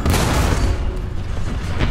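A tank cannon shot landing on a Panther in the video game War Thunder, a heavy, deep rumbling boom that fills the moment, loud and close, with no speech over it.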